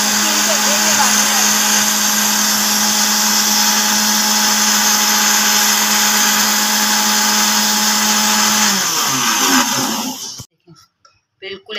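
A kitchen mixer grinder whirring loudly as it grinds fresh mint leaves for a summer mango drink, a steady high motor whine that runs nearly eleven seconds before cutting off abruptly, followed by a few quiet clicks.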